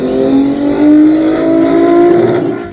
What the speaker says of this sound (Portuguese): E enquanto pisa fundo no acelerador